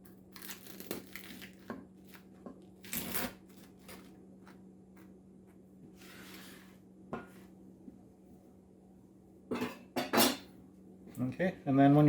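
Scattered crisp crunches and crackles close by as a crispy low-carb tortilla pizza is cut or bitten, alongside light clinking of dishes and utensils.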